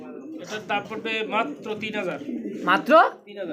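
Several white Danish pigeons coo in a series of soft, throaty bursts at close range, the calls overlapping with people talking nearby.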